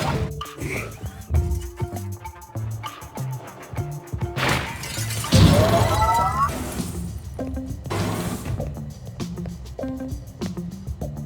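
Glass shattering in the video game Quantum Conundrum, a loud crash and spray of breaking glass mid-way among game sound effects, chimes and clicks.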